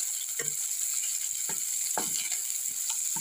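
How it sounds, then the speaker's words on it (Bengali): Onions fry in oil in a wok for chow mein, a steady close sizzle punctuated by a few scraping stirs, with no voices. "কোচানো পেঁয়াজগুলো একটু ভেজে নেব।"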